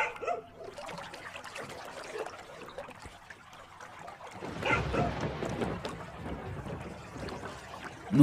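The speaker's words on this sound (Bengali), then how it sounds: "মাঝিটা কোনো শব্দ না করে ধীর গতিতে নৌকার দাঁড় টানতে থাকে" Old boatman slowly pulling the oars of a small boat on a river at night, with soft water swishes and trickles under a low, continuous wash, no voices.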